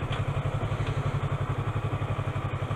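Motorcycle engine fitted with a sport exhaust idles steadily, a deep rhythmic low pulse with fast regular firing beats, close and continuous with no voices.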